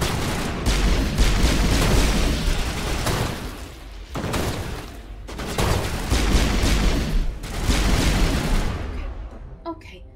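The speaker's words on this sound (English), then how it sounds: "Let me see where I'm shooting." Gunfire crackles in Mass Effect Legendary Edition during a combat firefight. Dense, loud bursts of shots run for several seconds, broken by short pauses, with booming impacts layered throughout.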